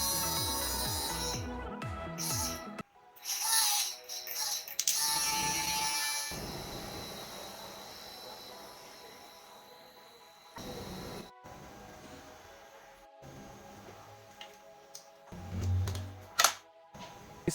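A DC 775 motor on a homemade power board whirs and hums close by, its mechanical drone rising, fading and restarting in uneven bursts as the speed changes.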